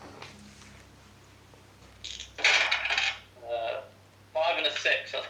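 Dice rolling and rattling on a table during a Flames of War tabletop wargame, three dice for reserves, heard as two or three bright clattering bursts with a short pause between them.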